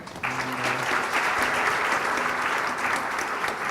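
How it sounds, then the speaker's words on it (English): Steady, full applause from a conference audience for a budget 2019 Q&A panel starts abruptly and holds at an even, dense level throughout, with no voices over it. "Please give a round of applause to the panel."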